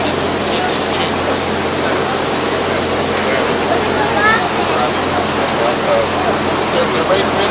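Water rushes through the valves of an Erie Canal lock into the lock chamber at Fairport, NY, a loud, continuous, close roar of churning water.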